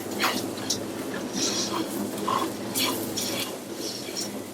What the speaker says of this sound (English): keep stirring until the rice is lightly brown